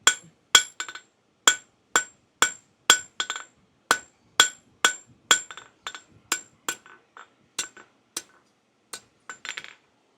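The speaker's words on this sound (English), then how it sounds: "This is a 5-pound hammer. It moves pretty quick." A power hammer with flat dies strikes steel in a steady, quick rhythm, sharp ringing clanks about twice a second, loud and close, slowing slightly toward the end.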